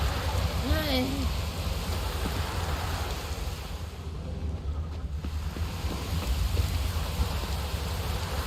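Rain falls steadily in The Witcher 3, a constant hiss of downpour with wind, joined by a brief rising whistle-like call early on.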